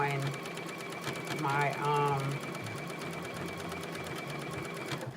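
A sewing machine stitches a cut-out top with a fast, steady mechanical chatter that runs throughout, while a person talks briefly over it.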